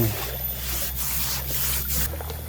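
Sand taken from a forest stream is scrubbed against skin while bathing, making steady rough rubbing and scraping strokes, fairly close, with no voices.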